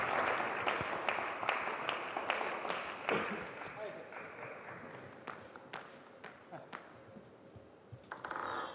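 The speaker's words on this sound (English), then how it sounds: "Crowd doing their absolute best to raise his spirits" A crowd at a table tennis match between Felix Lebrun and Hugo Calderano claps and cheers in bursts, with sharp ball pings and a commentator talking over the noise.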